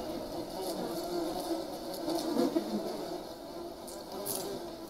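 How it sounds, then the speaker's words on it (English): Bees buzz in the survival video game Green Hell, a faint, wavering insect drone that swells and fades over a few seconds under quiet ambient game sound. "bees now."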